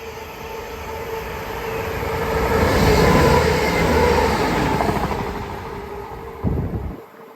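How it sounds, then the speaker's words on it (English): An ETR 500 high-speed train rushes past close by on the West Coast Main Line at Levenshulme, Manchester, its roar swelling to a loud peak mid-way and then easing before cutting off abruptly. "That actually might be one of the greatest trains ever created. ETR 500."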